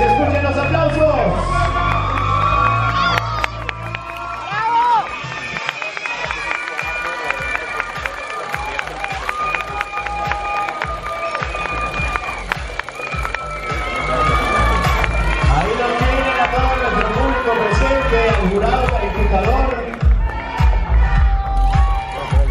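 Loud crowd cheering, whoops and shouts at a swimsuit final of a male model pageant, sustained for over twenty seconds with music and an announcer's voice running beneath the noise.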